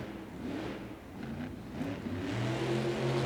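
Jurassic Attack, a Monster Jam monster truck driven by David Olford at Ball Arena in Denver, revs its engine in the arena with a steady, loud mid-pitched roar that swells and climbs toward the end.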